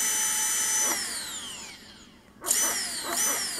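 A high-pitched brushless drone motor whine, driven by an Emax BLHeli 20A ESC, sweeps downward as it slows, then surges back up with a sharp rise, alone and close.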